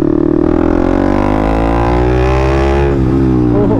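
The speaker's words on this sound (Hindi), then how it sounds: "भैया रेव कर दो, हम रेव कर देते हैं" A BMW fitted with an SC Project exhaust revs loud and close, its engine note climbing and holding a raspy rising pitch before dropping back briefly and picking up again.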